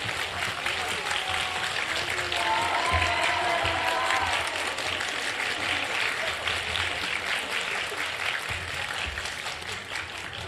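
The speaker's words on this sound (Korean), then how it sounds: "우리 강경화 장관님을 큰 박수로 환영합니다" A large audience at an Ewha Womans University lecture applauds to welcome Foreign Minister Kang Kyung-wha, steady dense clapping filling the hall for the whole stretch, with faint crowd murmur underneath.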